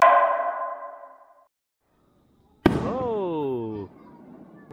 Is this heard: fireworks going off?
yes